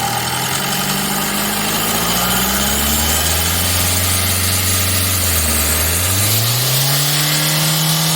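Tata Manza car engine with low pickup and black smoke trouble, idling then revving up in rising and falling sweeps, loud and close with a steady rumble throughout and no talking.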